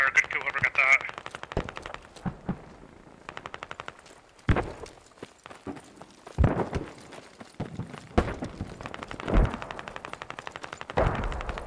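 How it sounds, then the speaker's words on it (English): Machine gun nest opening up in an Arma mod battle, with repeated bursts of automatic fire and scattered louder shots, some near and some farther off, rattling on and off over quieter gaps. "I got a machine gun nest on my visual."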